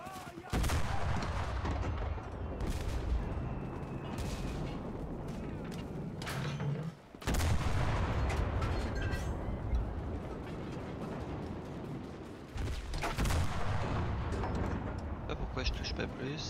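Continuous dense booming of cannon fire and explosions in the game Enlisted, loud and unbroken, with a brief dip midway before the barrage resumes.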